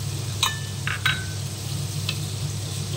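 Fish fries in a pan with a steady, low sizzle and hiss running throughout, punctuated by a few brief clinks and scrapes of utensils on cookware.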